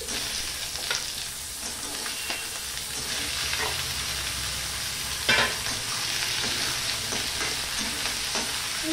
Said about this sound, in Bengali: প্রথমে আলু আর পেঁয়াজটা আমি ভেজে নেব ভালো করে